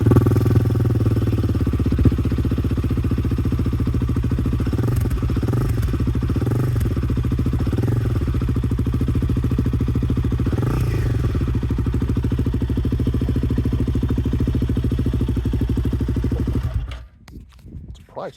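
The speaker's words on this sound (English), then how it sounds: "I almost forgot to see how it sounds without the exhaust at all" A motorcycle engine idling with no exhaust fitted, loud and raw, a harsh rattling drone with a few quick revs, cutting off abruptly near the end.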